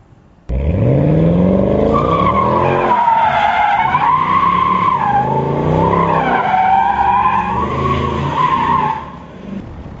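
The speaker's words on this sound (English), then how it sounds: "Wow, it even does burnouts." A Mercedes-Benz SL 63 AMG does a burnout, its engine revving hard while the tires squeal loudly and steadily for about eight seconds, pitch wavering, before the noise drops away.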